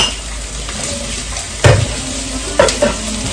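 An omelette with onion and tomato frying in a pan for breakfast gives a steady close sizzle, broken by a couple of sharp utensil clinks against the pan.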